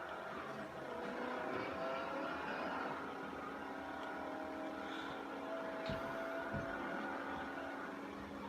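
Steady car engine drone in Need for Speed Payback, a Buick used as a drift car, running continuously at a fairly constant pitch with faint mechanical tones layered on top and no talking.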